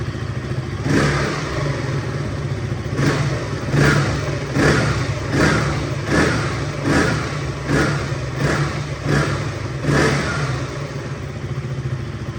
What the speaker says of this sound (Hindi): थोड़ा सा रेव करके और दिखा देता हूँ आपको।